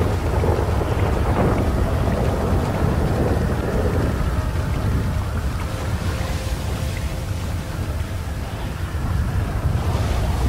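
A storm in GTA 5 roars steadily with loud rain and rumbling thunder, a dense wash of wind and downpour that fills the scene with no voices.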